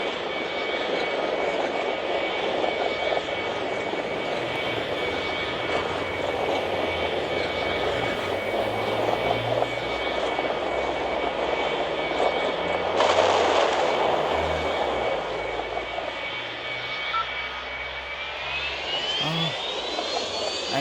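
Airliner landing in the video game Airline Commander, a steady simulated jet engine roar that swells and then winds down in pitch near the end, with a brief exclamation from a voice.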